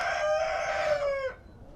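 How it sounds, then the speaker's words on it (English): A chicken lets out one loud, close, drawn-out call that slides downward over about a second before cutting off, with no talk over it. "chickens are funny creatures"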